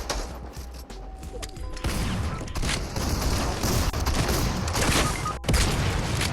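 Fortnite Battle Royale gunfire: after a quieter opening, a dense, sustained barrage of rapid shots breaks out and keeps going, loud and close, with one sharp crack standing out near the end.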